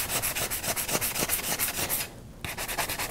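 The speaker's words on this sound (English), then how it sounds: "I've got a medium grit sanding block," Steady, rhythmic rasping strokes of a medium-grit sanding block rubbing over wood, close and loud, with a brief pause before the scraping resumes.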